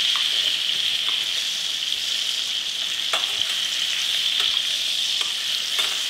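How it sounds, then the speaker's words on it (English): Chicken leg pieces, about five of them, browning in a hot pan give off a steady, even sizzle with small pops and crackles scattered through it. "this has been cooking like a minute or so. See, starting to brown nicely."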